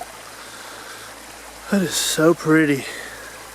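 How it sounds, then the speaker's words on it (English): A small waterfall flows in Alabama's Talladega National Forest, giving a steady, faint rushing hiss that runs throughout, with a voice speaking over it in the second half. "But I am finding some pretty waterfalls."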